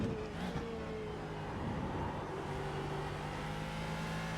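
GT1 race cars in the iRacing sim game, at Oulton Park, drone past at a distance with steady, faint engine whines and shifting pitch, several cars overlapping in a continuous hum.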